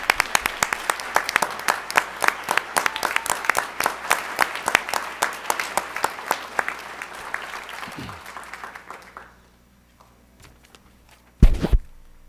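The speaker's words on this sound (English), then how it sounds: "We'll applaud you." Board members and attendees at a school district governing board meeting applaud a colleague with sharp, close, individual claps that taper off after about nine seconds, followed by quiet and a brief thump.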